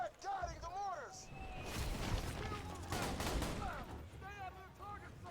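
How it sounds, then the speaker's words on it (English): Mortar rounds guided by targeting beacons in the video game Borderlands 2 pound in a dense cluster of rumbling blasts, with voices talking before and after. "They're guiding the mortars!"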